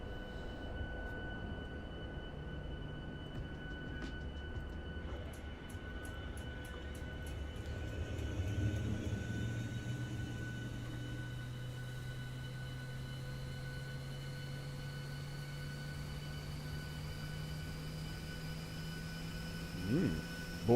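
A Boeing 737 MAX-8 auxiliary power unit spooling up in a flight simulator: a steady whine and low hum that rise slowly in pitch, heard from outside the aircraft over a continuous airy background.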